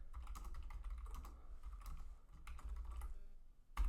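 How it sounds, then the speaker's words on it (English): Rapid typing on a computer keyboard into OneNote, a steady clatter of keystrokes close by with a couple of brief pauses and a louder tap at the end. "I can just click over here and start typing"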